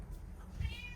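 A house cat meows once, short and fairly soft, indoors in a small, sunny, newly renovated apartment over a low room hum.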